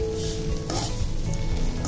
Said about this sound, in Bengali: তো এই পর্যায়ে আমি কিছু কিশমিস দিয়ে দিচ্ছি।